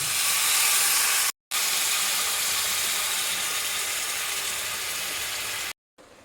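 Tamarind water poured into a cooking tomato mixture: a loud, steady broadband hiss and sizzle that holds for several seconds, broken by two brief silent gaps.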